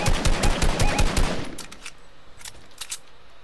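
Rapid bursts of automatic gunfire in Fortnite, loud and close for the first second and a half, then trailing into scattered, fainter distant shots.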